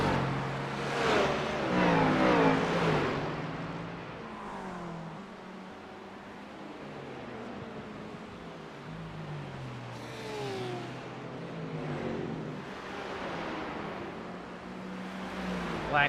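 Race cars in a GT3 endurance sim race at Watkins Glen accelerate past, engines rising and fading in two sweeping waves, with faint commentary underneath.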